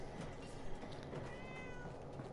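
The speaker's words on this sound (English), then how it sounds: "Oh, it meowed." A small cat in the video game Fallout 4 gives a faint, thin meow set in a cheat room, buried under steady game ambience with no talk.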